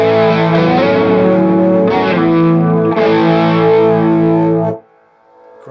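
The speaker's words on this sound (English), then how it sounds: "guitar going into the overdrive, and then the overdrive going into the chorus" Electric guitar fed through an overdrive pedal and then a chorus pedal plays loud, thick distorted chords with a shimmering wobble, a few sustained strums ringing before cutting off abruptly near the end.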